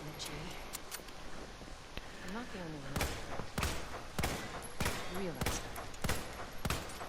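Gunshots in the Resident Evil 2 Remake video game, a series of sharp, loud single shots spaced roughly half a second apart over the last several seconds, with someone talking over them.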